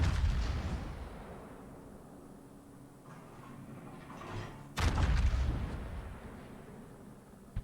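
Naval gunfire in the World of Warships game from the battleship Vermont: two heavy booming salvos a few seconds apart, each a deep blast rolling into a long rumbling decay.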